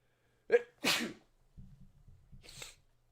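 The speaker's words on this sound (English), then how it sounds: "I got to sneeze." A single sharp sneeze with a quick intake before it, then quiet sniffing and a faint breathy exhale close by.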